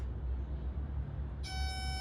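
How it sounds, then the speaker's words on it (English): A steady electronic oil level alarm tone on a Yamaha two-stroke outboard motor switches on partway through and holds continuously, high and piercing, over a low engine-room hum. "If you get the alarm, that means it's working as it should."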